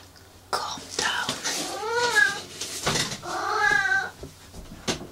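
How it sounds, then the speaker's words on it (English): A cat meows and yowls several times in drawn-out, wavering cries, fairly close in a quiet indoor room, with no talking over it. "You might hear my cat in the background."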